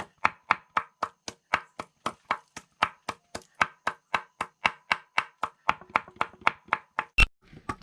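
Bamboo rat meat is minced finely with a knife for Akha blood larb, a steady, even series of about two dozen sharp, close chops on a board, with no talking.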